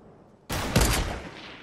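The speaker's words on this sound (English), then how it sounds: "and then there's people shooting him." Gunfire aimed at a player in a video game: a sudden loud burst of several rapid shots that rings out and decays over about a second, with no talking.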